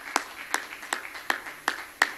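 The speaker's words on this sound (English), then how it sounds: "Let's clap our hands to the Lord as we stand." Hands clap in a slow, even rhythm during a church Sunday school service, six distinct claps spaced evenly apart, moderately loud with a faint roomy background.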